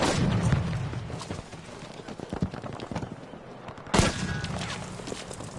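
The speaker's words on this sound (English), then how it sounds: "That sounds like a tank." A tank cannon fires in the Battlefield V shooter: one sharp, heavy boom lands near the end, over a busy bed of distant gunfire and battle clatter.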